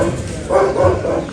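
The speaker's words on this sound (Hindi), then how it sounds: "कुत्ता भी ना गुस्सा किए जा रहा है।" A caged dog barks angrily at close range, a few sharp barks and growly yips in quick succession with no talking.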